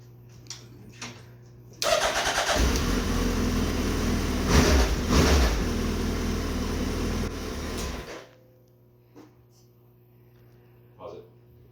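A 2018 Suzuki Hayabusa on its stock ECU cranks and fires up close by, then runs at a loud, steady idle for about six seconds before being shut off, with faint sounds around it before and after.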